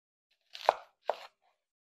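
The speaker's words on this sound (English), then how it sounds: "cut our onion in half from top to bottom." A chef's knife slices an onion in half top to bottom, giving two crisp, close cutting thuds a short gap apart against a quiet background.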